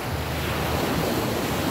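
Sea waves at Patungan, a steady broadband wash of surf mixed with gusty wind buffeting the microphone, continuous and moderately loud with no voices.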